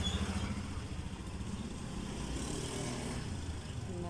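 A motorcycle engine runs with a steady low rumble at close range as it is ridden off, with no clear talk over it.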